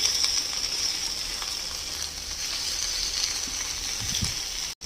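Egg frying in a pan with capsicum and chopped chili, heard as a steady, close sizzle that continues throughout, with a few faint stirring knocks and a short break right at the end.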